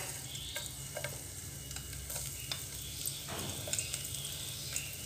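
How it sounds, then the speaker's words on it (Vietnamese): Garlic sizzles steadily in oil in a pan with a scatter of small pops and the scrape of stirring, with no talking. "mình cho tỏi vô mình phi trước nha các bạn"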